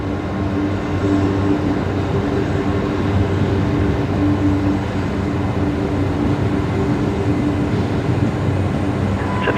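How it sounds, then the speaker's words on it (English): An airport air train at Brisbane Airport rolls past at a distance, a steady low rumble and hum that holds evenly throughout with no voices. "Getting a few air train noises."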